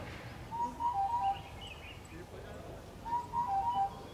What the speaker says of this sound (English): Interesting sound, like a bird.